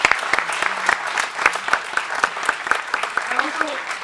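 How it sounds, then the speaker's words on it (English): An audience at an annual conference claps in a sustained round of applause, dense overlapping hand claps at close to medium distance, loud and continuous over the whole stretch. "Let's give a big round of applause for that"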